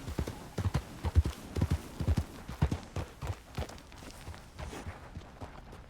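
Horse hooves clip-clopping at the stables in a video game, a close series of uneven thuds that slows and fades near the end.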